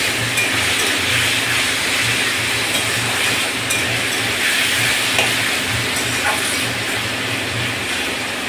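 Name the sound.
frying potatoes in a pan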